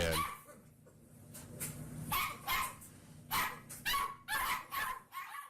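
A big dog barks repeatedly in short, sharp bursts, irregularly spaced and fairly close, with softer whimpering between the barks and no speech.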